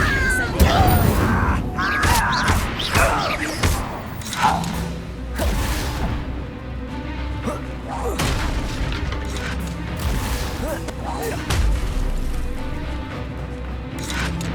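Spell effects from Hogwarts Legacy, Levioso, Accio and Incendio cast in quick succession: whooshing magical bursts, creaks and booms that layer over one another, with a voice briefly speaking in among them.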